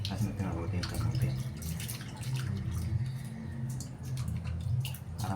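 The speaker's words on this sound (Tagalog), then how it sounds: "Hugasan natin mabuti yung kamote." Sweet potatoes washed by hand under running water, a steady splashing flow with scattered drips and rubbing throughout, close by, while a person talks over it.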